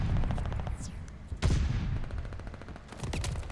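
Grenades and gunfire in a Call of Duty esports match, rapid bursts of shots with a sharp blast partway through, dense and close, under faint background noise.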